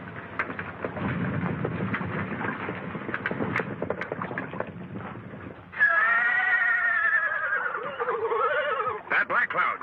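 A horse whinnies loudly in a stormy outdoor setting, a long wavering neigh breaking out over rumbling thunder and rain, with a shorter cry at the end; this horse is stuck, bogged down in mud.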